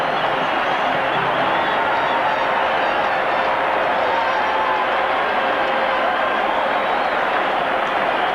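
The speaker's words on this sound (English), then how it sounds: "Listen to this crowd." Roaring hockey arena crowd at the 1976 Canada Cup final game between Canada and Czechoslovakia, a loud, steady wash of cheering noise filling the entire stretch without a break.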